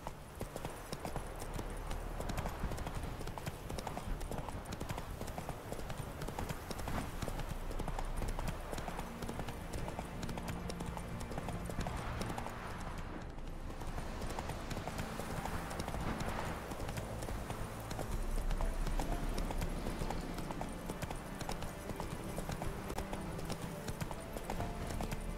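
Roach, the horse in The Witcher 3, gallops with a fast, continuous rhythmic hoof clatter, close and steady throughout, with game ambience underneath.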